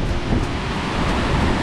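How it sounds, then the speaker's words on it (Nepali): Strong wind buffets a hilltop in the Syangja hills, a constant loud roar of gusting air thudding against the microphone with no break and no voices. "अब चाहिँ यस्तो वाइल्ड हावा चलिरहेछ"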